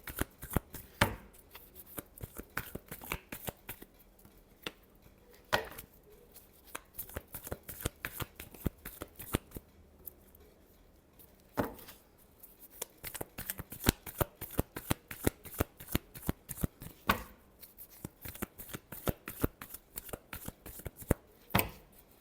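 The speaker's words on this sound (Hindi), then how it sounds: "Last shuffle." Playing cards are shuffled repeatedly up close, a steady stream of crisp riffles and soft snaps with brief pauses between bursts, heard alone without talk.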